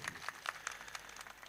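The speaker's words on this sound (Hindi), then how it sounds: "ताली बजाकर अभिनंदन कीजिए" An audience at a devotional kirtan gathering in India claps in applause, a steady patter of many hands, moderately distant, with no talk over it.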